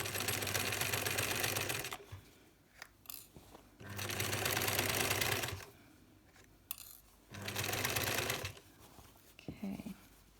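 Sewing machine stitching the front neck band of a unisex scrub top in three short bursts of fast, rhythmic whirring, separated by quiet pauses with small clicks and handling sounds.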